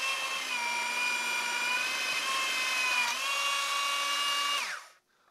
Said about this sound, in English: let's drill something.